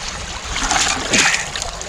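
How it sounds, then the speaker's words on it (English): Water is pushed out of a bucket of screened gravel at a gold-prospecting camp, sloshing and splashing in an uneven run of wet bursts, close and fairly loud with no talk. "I'm going to push the water out now, see where we are in terms of gravel"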